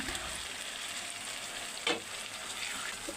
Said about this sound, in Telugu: బాండీ పెట్టి ఆయిల్ వేసి ఎండుమిర్చి ఆనియన్స్ కరివేపాకు వేసుకొని తాలింపు రెడీ చేసుకొని